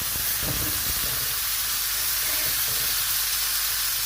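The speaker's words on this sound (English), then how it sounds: "I'm going to put these two together and sear the fat on the edges, on the underside." Sirloin steaks sear in hot oil and a knob of butter in a pan, a loud, dense, continuous hiss and sizzle filling the clip without talk.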